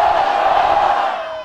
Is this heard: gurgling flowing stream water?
no